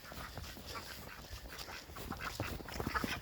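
Ducklings quacking softly indoors on a spring day in Maine, faint scattered peeps and quacks over a low background hum, with a few brief louder chirps near the end.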